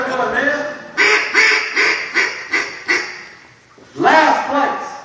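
A hand-blown duck call imitates a duck, sounding a loud, close run of five rhythmic quacks, a pause, then another burst, with no talk.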